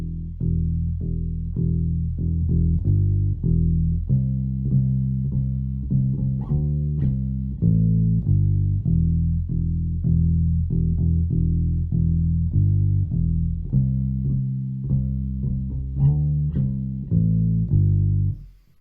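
Bass guitar slowly playing a quiet solo pattern, a steady line of plucked low notes repeating at an unhurried pace, clear and close with no voices.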